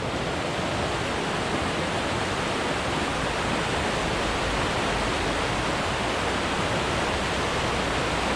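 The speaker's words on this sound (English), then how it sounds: "This is just a little side trail down to the creek." Creek water rushing along a side trail to Bullion Falls in July, running fuller than usual, a steady dense roar with no break, close by and loud throughout.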